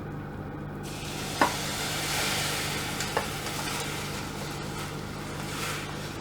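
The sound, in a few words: stirring risotto rice in stock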